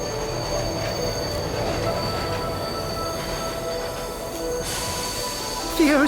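In the video game Bright Paw, a train pulls into a station with a steady, close rumble under a high metallic ringing. A sharp wheel squeal rises at the very end.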